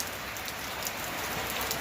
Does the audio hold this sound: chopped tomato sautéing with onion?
no